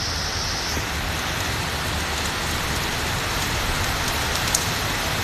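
Rain falls steadily in the Konabari–Kashimpur area of Gazipur with no wind, a dense even hiss of drops on surfaces, close and unbroken with no voices.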